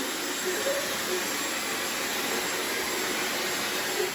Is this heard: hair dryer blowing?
yes